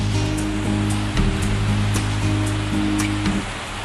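Fast-flowing water of the Indrayani river rushes over Bhushi Dam in Lonavala during monsoon, a steady loud roar with no speech.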